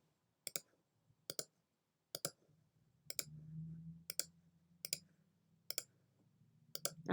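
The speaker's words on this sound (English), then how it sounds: "click once with my mouse" Sharp computer mouse clicks, about ten of them in quick single taps spaced through the stretch, close and crisp, made while outlining a name in a stained glass design program, with a soft low hum underneath.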